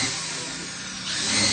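A power drill whirs steadily at close range while assembling a wardrobe with 18 drawers and 10 doors, its pitch rising slightly near the end of the short burst, with no talking over it.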